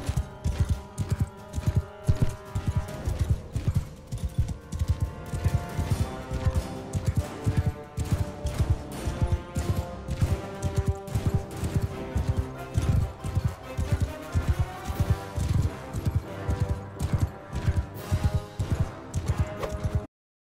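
Horses gallop in Mount and Blade 2 Bannerlord, a steady stream of loud, close hoofbeats clip-clopping in a fast rhythm, with an occasional whinny over the clatter of a mounted battle.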